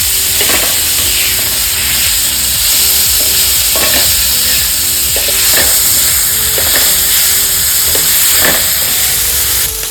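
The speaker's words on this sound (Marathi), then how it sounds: "थोडं तेल टाकून अजून चांगलं थोडंसं भाजून घेऊ आपण मसाला इथं चांगला भाजतो" Loud, continuous sizzling of spice masala frying in oil for a paneer dish, broken by repeated scraping strokes of a spoon stirring the pan.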